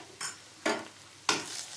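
Spices—salt, turmeric and Kashmiri chilli powder—stirred into ginger and garlic frying in a pan for okra masala, three separate stirring scrapes with a soft sizzle between them.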